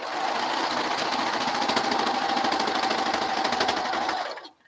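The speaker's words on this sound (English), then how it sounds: "And then all you're going to do is start serging." Serger sewing machine stitching through fabric for a headband, a steady loud rapid mechanical whir running continuously for about four seconds before cutting off abruptly.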